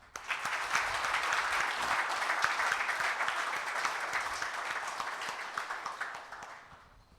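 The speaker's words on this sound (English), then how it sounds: "let us welcome them with a big round of applause" An audience at a corporate event gives a big round of welcoming applause for guests, a full, sustained wash of many hands clapping that holds steady for several seconds and then tapers off.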